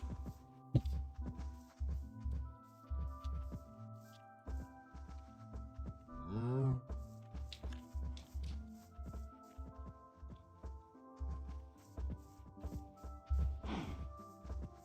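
A cow lows once in a block-building video game, a short wavering moo rising over a repeating low thumping game soundtrack, with a second brief call near the end.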